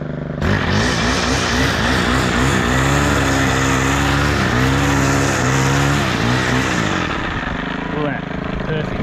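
A Stihl FS130R string trimmer engine runs loud and close, holding a steady buzzing drone whose pitch rises and dips with the throttle before it drops off near the end.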